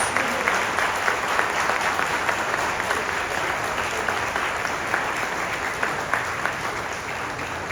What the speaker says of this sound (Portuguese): E aplausos para os nossos candidatos.